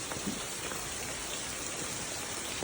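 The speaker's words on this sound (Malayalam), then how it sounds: "ഭയങ്കര മഴയാണ് ഗൈസ്, ഒരു രക്ഷയില്ലാത്ത മഴ." Heavy rain pours steadily, a dense continuous hiss with no pauses or voices.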